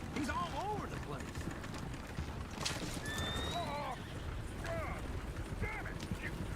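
Horses in Red Dead Redemption 2 whinny and neigh repeatedly over steady hoof clip-clop and outdoor noise, with several neighs spread across the passage.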